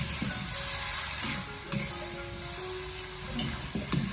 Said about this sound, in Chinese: 然后再立刻的用锅铲给它翻炒均匀